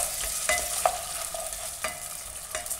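Ginger garlic paste frying in a pan for chicken vegetable dum biryani: a steady hiss of oil with several sharp scraping strokes of a spoon, close and alone, no voices.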